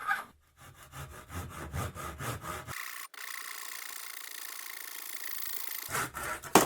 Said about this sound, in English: I'll just trim the block at an angle. So I'm just going to saw it down here.